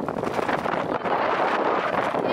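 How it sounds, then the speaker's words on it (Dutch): Strong outdoor wind roars across the microphone while someone cycles, a dense, constant rushing noise with small gusty fluctuations and no other sounds standing out. "Jeetje, wat wind."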